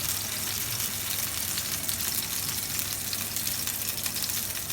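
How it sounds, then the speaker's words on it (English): Fish pieces sizzle steadily in a hot frying pan for Sicilian-style fish, a continuous loud hiss of frying fat with no talk over it. "that's the sound that you want to hear, that sizzle when you put it in"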